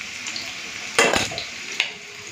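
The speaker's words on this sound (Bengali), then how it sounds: "একটুখানি আলু আর ফুলকপিটা ভালো করে লাল লাল করে ভেজে নিই।" Potatoes and cauliflower fry in oil in a wok with a steady sizzle, broken by a loud burst of stirring and scraping near the middle and a sharper clink of utensil on pan toward the end.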